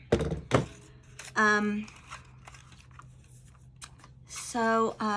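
A stuck craft tool is banged on a tabletop, giving two sharp, close thuds at the start, then a few lighter taps as a person talks.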